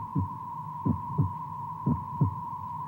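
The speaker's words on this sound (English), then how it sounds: "Or a heartbeat." A heartbeat-like throbbing effect from a 1970s TV adventure show, pulsing in double thumps about once a second over a steady electronic hum, with no voices.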